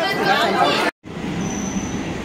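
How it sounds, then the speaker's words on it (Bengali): A train pulls into a station with a loud, steady roar of wheels and rail noise. The sound drops out for an instant partway through, then carries on. "চলো দাদি চলো, ট্রেন আসছে।"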